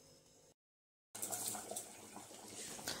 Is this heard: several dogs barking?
no